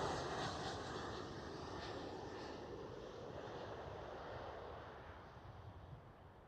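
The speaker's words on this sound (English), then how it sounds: "It does look like there is another aircraft pushing back at the cargo platform." Aircraft at Schiphol airport in Amsterdam, heard as a faint, distant, steady engine roar with a broad rushing hiss that slowly fades, with no talking.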